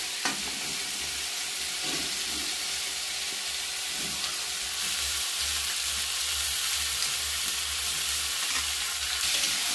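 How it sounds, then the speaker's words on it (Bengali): Watermelon rind and tomato cooked in a frying pan, a loud, dense, continuous sizzle and hiss with faint stirring scrapes underneath, close up. "এবারে তরমুজটা দিয়ে ভালোভাবে নেড়ে নেব"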